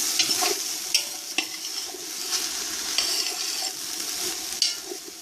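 Herbs being sautéed for an okra tomato stew sizzle steadily in the pan while a utensil stirs them, giving light scraping and several sharp taps against the pan, close and clear with no speech.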